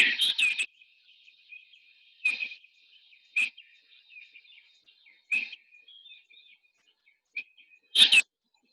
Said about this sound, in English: As the sun is rising, you'll hear the birds calling like this.